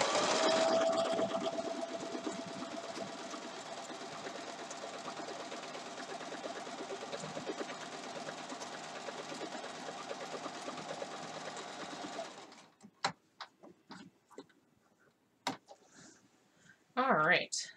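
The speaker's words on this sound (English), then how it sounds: "might help if I actually turn the sewing machine on" A sewing machine runs steadily with a continuous mechanical whir for about twelve seconds, then stops, leaving scattered clicks and soft handling noises.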